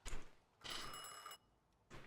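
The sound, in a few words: telephone ringing in video game The Thaumaturge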